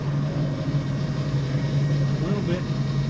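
A 1974 Plymouth 'Cuda's Mopar engine runs steadily with a low, continuous drone while the car drives in second gear, the sound moderately loud and unbroken throughout.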